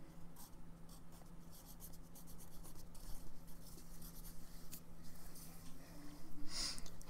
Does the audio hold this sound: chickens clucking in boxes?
no